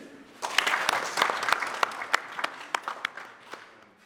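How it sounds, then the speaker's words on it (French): An audience at a graduation ceremony claps in a scattered, moderately close burst of individual sharp claps that thins out and tapers over a few seconds. "On applaudit."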